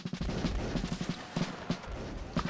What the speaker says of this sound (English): Shoot the guys right in front of us.